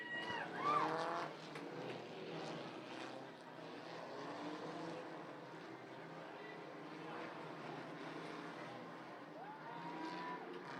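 Lone Star Legacies race cars roll onto a dirt-track oval for the main event feature at a Labor Day classic, a steady wash of engine roar and track ambience filling the whole stretch at a moderate distance.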